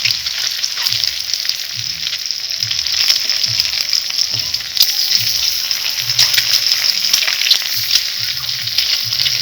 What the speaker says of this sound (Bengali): ডিমগুলো এরকম আমাকে আস্তে আস্তে ভেজে নিতে হবে।